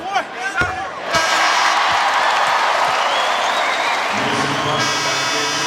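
Basketball arena crowd at an NBA game between Portland and Toronto roars loudly and continuously after a few bounces and claps, a dense sustained cheer with a buzzer-like tone near the end.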